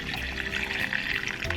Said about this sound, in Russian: Дальше, друзья, заливаем кипяток до плечиков наших банок.